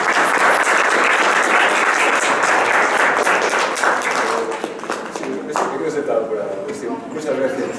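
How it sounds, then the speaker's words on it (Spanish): Warm applause from an audience at a university lecture, full clapping that tapers off after about four seconds into lighter scattered claps, with a voice starting to speak near the end. "Recibamos con un aplauso al Dr."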